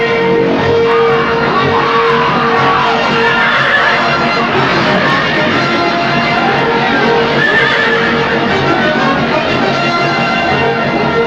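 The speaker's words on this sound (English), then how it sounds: "drive your horses through the gates" Horses whinnying and neighing amid a dense, continuous din of a mounted battle charge through gates, with hoofbeats and crowd noise blended into a loud, unbroken wash.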